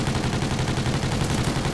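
Rapid automatic gunfire from a Call of Duty: Ghosts multiplayer match, a continuous close burst of shots emptying a full magazine, loud and unbroken for the whole moment.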